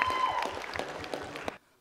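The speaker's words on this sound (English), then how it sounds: "let's give her a round of applause" Audience applause for a performer at a spring cultural evening stage show, a steady burst of clapping from a crowd lasting about a second and a half before cutting off abruptly into near silence.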